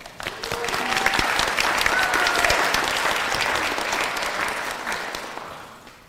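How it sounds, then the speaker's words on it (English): An audience claps steadily at a School of Education graduation pinning ceremony. The dense, sustained applause holds for about six seconds, then gradually tapers off. "Let's give her a round of applause."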